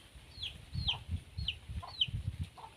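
Chickens cluck close by in a steady, repeating rhythm, with four or five sharp calls about half a second apart over soft low background noise.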